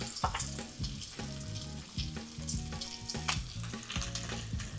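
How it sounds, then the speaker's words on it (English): Bacon strips frying in a pan for a breakfast meal prep, a dense crackling sizzle with bursts of popping and spatter, close and steady with light clatter, no talk. "Now we can start adding more bacon."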